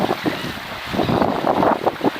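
A Melonseed sailboat moves along on the water off Beaufort, North Carolina, with a steady rush of wind over the microphone mixed with the wash and slap of water against the hull.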